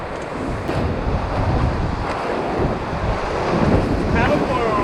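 Rushing whitewater roars steadily as a raft heads into a big river rapid in Denali, Alaska, broadband surf-like noise with wind buffeting the microphone, rising slightly toward the end.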